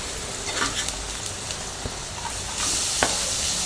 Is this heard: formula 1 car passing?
no